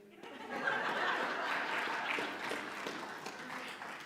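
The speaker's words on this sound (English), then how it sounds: "We didn't get nearly as much applause the second time, Pooh." Audience applause after a church service riddle performance, a sustained broad wash of clapping with some light laughter mixed in, moderately distant and steady throughout.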